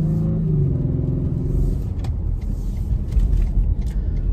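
A car drives along a road, its engine rumbling steadily up close with low road noise, a slight rising tone early on and a few light knocks and bumps, no talking.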